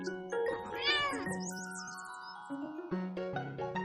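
A cat meows several times in clear, high, rising and falling cries over light jingling chimes and a soft musical background, with no speech.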